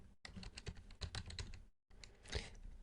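Rapid keystrokes patter on a computer keyboard while entering details for a new Gmail account, close and quiet, in two short bursts split by a brief pause.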